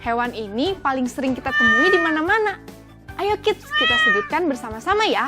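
A domestic cat meows several times in clear, drawn-out, rising and falling calls, close and loud, with someone speaking between the meows.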